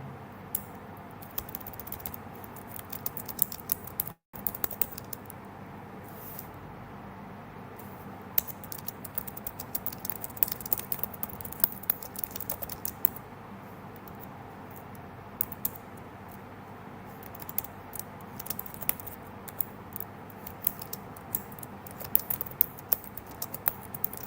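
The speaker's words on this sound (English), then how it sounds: "I'm just typing this in" Faint, irregular keyboard clicks patter on and off against a quiet background hum, with occasional short bursts of quicker typing.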